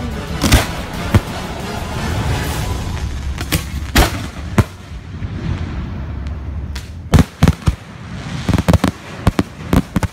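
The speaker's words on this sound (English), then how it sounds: "He sets off each and every firework in the entire show." A fireworks show bursts with sharp cracks and booming explosions, some in quick clusters and others spaced apart, over a steady background rumble and crackle.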